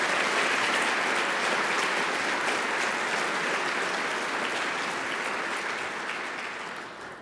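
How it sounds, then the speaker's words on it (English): An audience at an education awards ceremony bursts into sustained, dense applause, loud and even for about six seconds before gradually fading toward the end. "A little applause, but now a big round, please, for all of our heroes."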